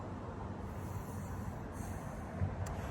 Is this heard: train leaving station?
yes